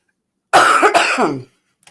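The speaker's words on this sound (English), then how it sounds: "Oh, excuse me. I got a cough here." A single rough cough or throat-clearing burst, close and loud, followed by silence and a faint click.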